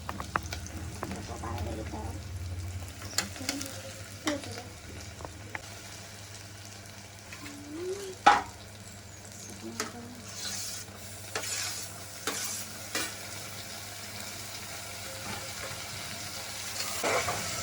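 Onions sizzling in a pan of oil for prawn biryani, with a steady fry hiss and scattered scraping knocks from stirring, fairly close and with no talk.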